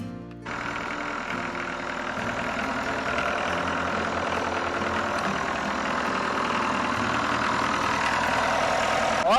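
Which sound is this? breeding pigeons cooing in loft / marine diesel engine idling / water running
marine diesel engine idling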